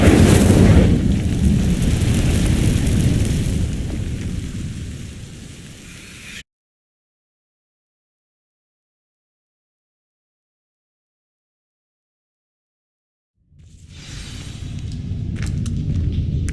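In Hogwarts Legacy, an Incendio fire spell sets dry vines alight with a loud, rushing roar that fades over several seconds, drops into silence, and then flares up again with crackling bursts.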